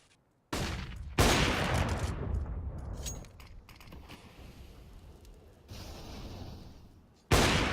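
Counter-Strike match gunfire: loud, dense bursts of rifle fire in several blasts, a sharp burst opening, a long sustained volley, then a final sudden burst, no talking over it.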